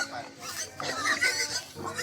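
Pet pig named Siren oinking and grunting in a series of short, nearby snorts while people talk over it.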